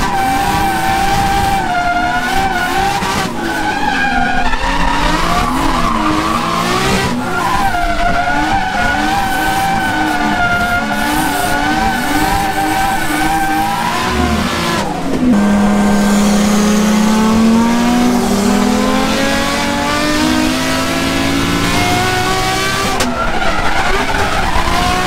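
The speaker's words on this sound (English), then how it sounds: "we can hear the motor sort of drying down a little bit in revs" Race car at a South Australian state series round, engine note heard close up from the car as revs sag and climb again under left-foot braking through corners, with tyres squealing and skidding across the run.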